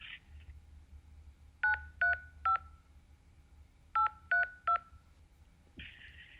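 Two quick groups of three crisp, evenly spaced telephone keypad beeps entering a passcode, with a pause between groups over a low background hum.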